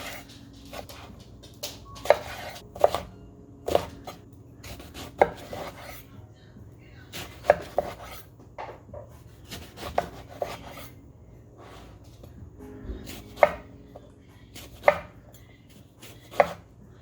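A knife chops eggplant into three-quarter-inch cubes on a cutting board, with irregular close knocks and clusters of rapid strokes between quieter pauses.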